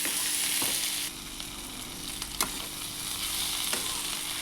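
A pan of Bengali fish oil fry with potato and eggplant sizzles steadily and loudly, with occasional scraping clicks of a spatula stirring through the mixture.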